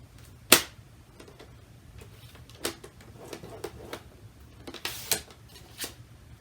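A paper trimmer arm slicing cardstock for a folded card, with a sharp snap followed by several softer scraping and clicking passes of the blade, close and alone.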